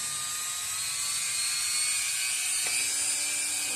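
Rotary tool grinding a metal tent stake into septum jewelry, a steady high-pitched whine with dense buzzing that holds continuously throughout, loud and close with no talking.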